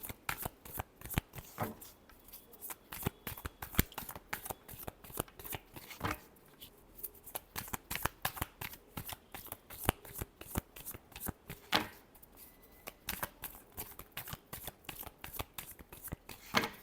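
Tarot cards being shuffled over and over, a rapid run of crisp riffling flutters and soft slaps with brief pauses, close and fairly quiet with no talking.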